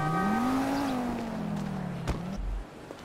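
A car drives in GTA 5, its engine rising and then sagging in pitch as it revs and settles, followed by a sharp thump and a low rumble before fading.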